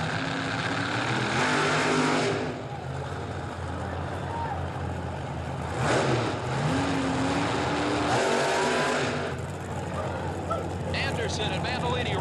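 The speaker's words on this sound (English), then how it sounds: "She's moving up now for the dry burnouts, heating up the massive rear slicks after those tremendous smoky burnouts." Top-fuel drag racers at the 1984 World Finals in Pomona doing dry burnouts on massive rear slicks: loud, roaring engine bursts rise and fall in several surges over a constant broad rumble.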